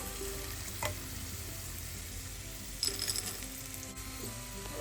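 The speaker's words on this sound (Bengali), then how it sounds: "এইভাবেই আমি সবগুলো মটর ভেজে নিচ্ছি" Dried peas frying in hot oil in a home kitchen, a faint steady sizzle with a couple of soft clinks and stirring sounds, no talking.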